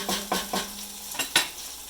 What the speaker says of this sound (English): Stir that all around. This is sauteing nicely.